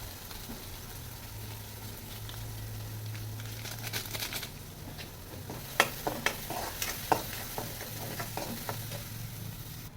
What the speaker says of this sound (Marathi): तेलामध्ये मसाला फ्राय करून घ्यायचा आहे